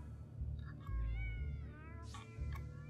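A cat meows several times in the video game South Park: The Fractured But Whole, a short plaintive mew followed by a longer wavering call and another, over a low rumbling hum.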